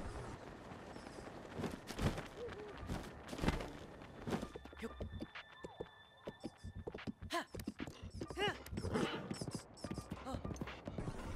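Horse hooves clip-clopping in the video game Breath of the Wild, a quick irregular run of hoofbeats mixed with game effects and occasional tonal chimes, moderately loud and close.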